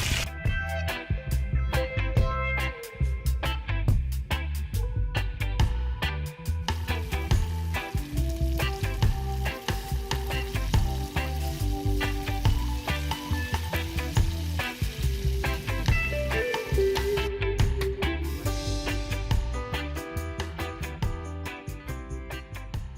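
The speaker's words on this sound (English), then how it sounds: "I'm done frying the fish" Fish sizzling steadily in hot oil for escovitch, a dense, continuous crackle that stays close and loud throughout.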